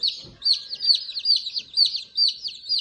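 A small Minorca chick peeping repeatedly, a rapid series of high, close chirps in a steady rhythm, loud and clear with no talking.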